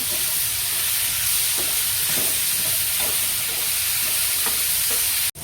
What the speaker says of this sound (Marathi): आता आपण टमॅटो घालूया दोन मिनटं परतून घ्यायचं याला